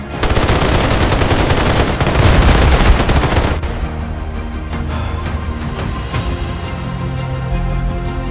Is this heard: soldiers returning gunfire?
yes